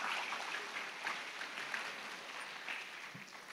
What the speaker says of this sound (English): with a big round of applause from all of you